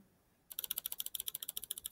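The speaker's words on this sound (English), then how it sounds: "first, we've got to hit F7 on the keyboard to bring up our layers" Rapid, even clicking of keys on a computer keyboard: about twenty close, crisp taps in a steady rhythm that start abruptly after half a second of quiet, with no voices.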